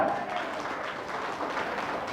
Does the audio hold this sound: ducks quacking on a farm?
no